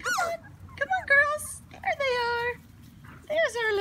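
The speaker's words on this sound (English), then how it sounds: "They are such cute, sweet dogs." Chocolate Labrador puppies whimper and yip in several short, high, wavering cries, close and fairly loud, with quiet gaps between them and a low murmur underneath.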